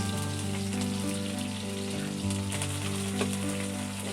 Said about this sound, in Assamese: পিঁয়াজটো ৰঙচুৱাকৈ ভাজি লোৱা হ'ব।